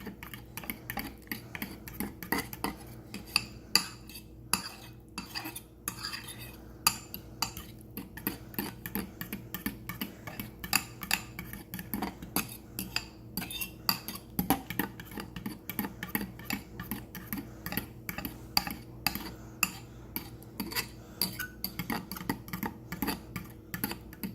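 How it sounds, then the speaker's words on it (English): A fork stirs and whisks slippery elm gruel in a bowl, making quiet rapid ticking and scraping taps in an irregular, continuous rhythm with no voices. "So I'll use my fork to stir, but then also kind of like a whisk."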